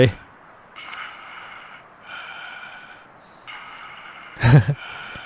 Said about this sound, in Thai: เฮ้ย มีเสียงหายใจ